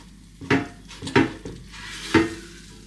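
A spatula lifts a lasagne tortilla pizza out of an air fryer, giving three short, light metallic scrapes and clinks with brief pauses between them.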